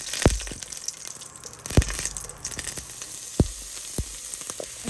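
Dried red chilies and bay leaves sizzle sharply in hot oil in a kitchen, a steady crackling fry punctuated by a few loud pops and spatters, with no talking.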